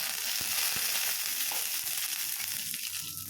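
Ingredients for sesame chutney fry in a pan, a loud, constant close-up sizzle with a couple of brief knocks from stirring, and no voices.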